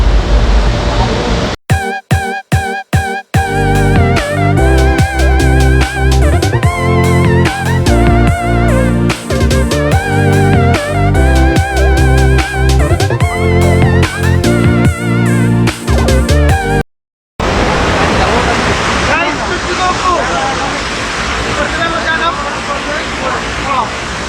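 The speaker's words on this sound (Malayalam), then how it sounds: "നൈസ് വാട്ടർഫോൾസ് ആണല്ലോ." Orappankett waterfall in Thrissur, water crashing over rocks: loud music fills most of the stretch, then cuts out and a steady broadband roar of rushing water carries on alone to the end.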